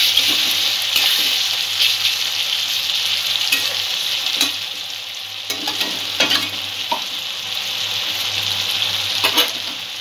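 Ginger-garlic paste and spices sizzle in a frying pan for a shoal fish curry with mixed vegetables, with a steady hiss under repeated scraping stirs at an irregular rhythm, close and fairly loud.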